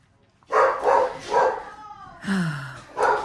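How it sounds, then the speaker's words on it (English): Dogs outside bark in a series of sharp, close barks with a brief whine among them, about five barks over a few seconds. "Dogs are out, families are out with their dogs"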